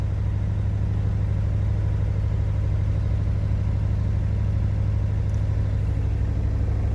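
A 1985 Jeep Cherokee XJ Wagoneer Limited idles steadily as it warms up, a constant low engine drone with no revving, holding evenly for the full stretch.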